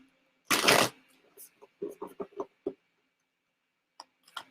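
A deck of cards is shuffled close up, with one loud riffle burst followed by a run of quick separate flicks and taps, and a few soft ticks at the end.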